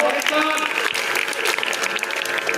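Students at a school voter-awareness event clap to welcome a girl onto the stage, a lively, sustained round of applause with some voices mixed in.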